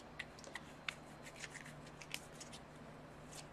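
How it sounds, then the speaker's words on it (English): An Exploding Kittens card deck being shuffled by hand, quiet close riffling with a series of light crisp snaps and rustles, no talking over it. "And then you shuffle again."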